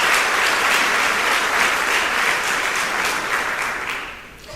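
A church congregation claps loudly and continuously, a dense wash of applause that fades away toward the end.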